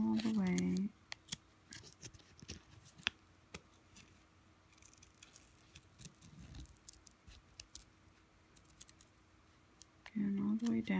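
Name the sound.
scissors cutting vinyl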